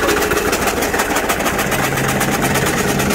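A vehicle engine runs steadily and strains with a low, continuous rumble and vibration as it is put into reverse gear, with no talking.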